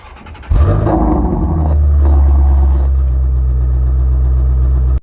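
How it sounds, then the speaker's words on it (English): A Ford Mustang Shelby GT350 with a 5.2 liter V8 starts up, cranking briefly before catching into a loud, deep rumbling idle that flares slightly then settles into a steady burbling drone, close and alone. "After hearing that glorious startup of the Shelby GT350"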